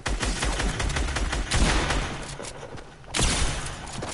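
Rapid SMG fire in a video game crackles in dense, sustained bursts, with a brief lull and then another loud volley of fast shots.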